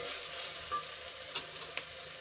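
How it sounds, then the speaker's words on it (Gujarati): A soft, steady sizzle of onions and tomatoes sautéing in a pan, with a few light clicks and scrapes of stirring, no voices. "હવે આપણા ડુંગળી અને ટમેટા સરસ રીતે સંતળાઈ ગયા છે"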